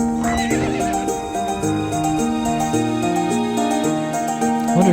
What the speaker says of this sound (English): Why is there like a horse, like a ghostly horse in the memory?